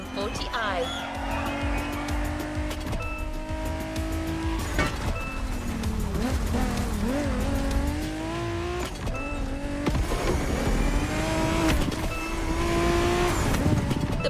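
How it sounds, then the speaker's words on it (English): BMW Z4 M40i roadster in The Crew Motorfest, an engine revving up and down through gear changes with rising and falling pitch, tire squeal and skidding, loud and close throughout. "We have prepared a classic for you from a very famous German brand, the BMW Z4 M40i."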